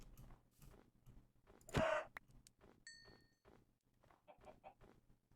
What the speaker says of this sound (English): Motherfucking chickens.